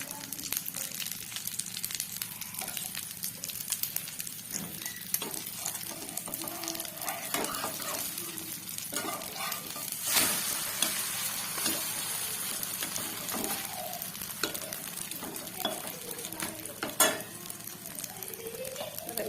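Egg paratha frying in oil in a pan, a moderate continuous sizzle with spatula scrapes and stirring clatter, an occasional sharper knock, heard close with no talking.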